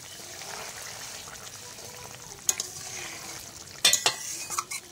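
Vegetable curry cooking in a pot, a low steady bubbling hiss with sharp spoon-on-pot scrapes and clinks toward the end, close and alone.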